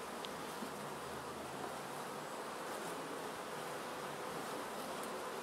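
Honeybees from a weak hive drone steadily in a dense, continuous buzz, close and fairly loud throughout, with no talking.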